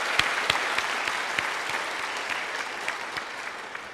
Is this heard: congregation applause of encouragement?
yes